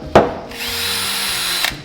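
A solar-powered bucket drill with an attachable drill whirs loudly and steadily for over a second after a short sharp knock, then cuts off abruptly.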